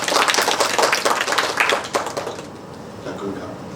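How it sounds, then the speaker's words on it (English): Audience applause for a speaker named Alex at a conference: loud, dense clapping for about two seconds that thins and tapers off as a voice begins talking over the last stretch. "Please give Alex a round of applause."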